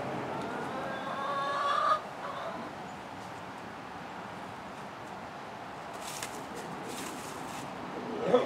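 Chickens cluck in a farmyard behind a fence, their calls fairly close but not loud, heard over constant broad background noise with a louder spot near the start.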